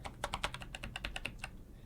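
Computer keyboard keys clack in a quick, uneven burst of about a dozen presses while steering a car in a driving test track, close and crisp, with no talking.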